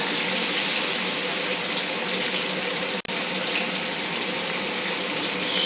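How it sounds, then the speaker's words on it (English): Eggs are poured into a pan of sizzling bacon and jalapeno, producing a steady, loud frying hiss that holds nearly unbroken, with one brief dropout partway through. "And here come the eggs."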